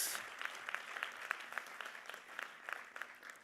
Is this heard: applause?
yes